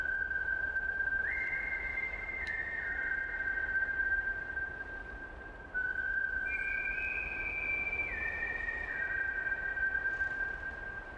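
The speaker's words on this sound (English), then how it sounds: "he started whistling quietly" A slow, somber whistled melody sounds inside the horror video game Mycorrh, with sustained tones that shift in pitch in long steady phrases and no talking.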